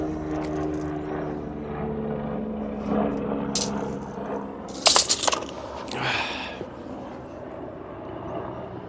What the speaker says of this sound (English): the plane sounds like it's going over me right now